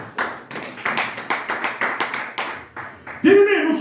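A church congregation at a Sunday service in Montreal applauds loudly in rhythmic unison, with claps pulsing roughly twice per second before a voice cuts in near the end.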